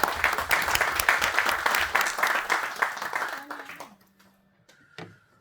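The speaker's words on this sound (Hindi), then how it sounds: "भाई ताली में कंजूसी मत करिए" Applause at an office retirement party: a crowd claps loudly and steadily, then the clapping fades out, leaving a faint tone and a brief murmur at the end.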